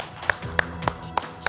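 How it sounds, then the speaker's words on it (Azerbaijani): A handful of sharp, evenly spaced hand claps ring out at a steady beat for an audience welcoming guests on a talk show. The claps sound sparse and fairly close, with no talk over them. "bir alqışlayaq qonaqlarımızı."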